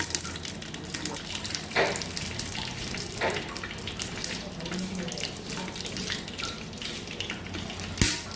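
A spice mixture sizzles and bubbles in a pan before chicken goes in for an Adivasi chicken dish, a dense steady frying hiss with occasional clinks and brief stirring noises.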